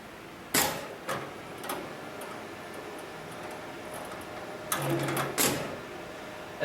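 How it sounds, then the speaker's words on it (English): A programmable automatic sewing machine for thick materials like harnesses and slings powers on, giving a few sharp clicks and clacks from the motor and computer over a steady low hum, close and fairly loud. "turn the power button on for the motor, which activates the computer and also the motor for the sewing machine"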